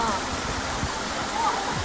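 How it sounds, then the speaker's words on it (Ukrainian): A waterfall near Bukovel, running low rather than full, gives a steady, close broadband rush of falling water that holds for the whole stretch, with faint voices mixed in. "Водоспад дійсно гарний, але він не повноводний."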